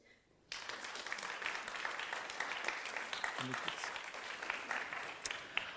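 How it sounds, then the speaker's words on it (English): A student competition audience breaks into warm applause after a quiet moment, sustained dense clapping from a large crowd that holds steady to the end. "Please give yourselves a fantastic, warm applause for being yourselves."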